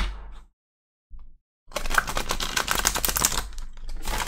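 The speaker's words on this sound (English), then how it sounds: "Give it a good shuffle." Tarot cards being shuffled, a dense run of quick papery riffles and taps close by, starting after a short break with a few soft sounds, then continuing for over two seconds.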